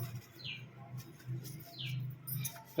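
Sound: Kalanka Madras pigeon cooing

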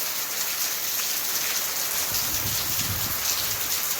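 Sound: heavy rain falling in Bathinda, Punjab

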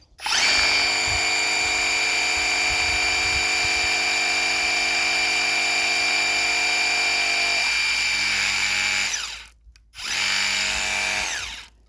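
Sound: Worx cordless pressure washer running

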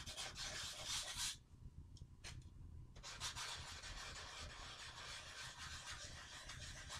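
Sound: hand sanding a wooden gun stock finish

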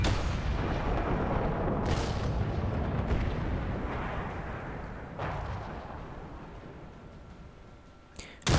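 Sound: tank gun firing in video game World of Tanks

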